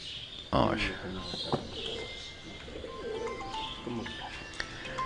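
Teddy breed pigeons in a breeding setup, soft low cooing and a few chirps close by, with a sharp knock near the start and background noise throughout.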